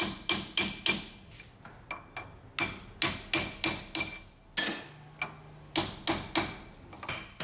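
Sharp metallic hammer blows in quick bursts of three or four, ringing briefly, with short pauses between the groups, driving a ring gear into place on a Jeep JKU Rubicon axle; close and loud, no talking.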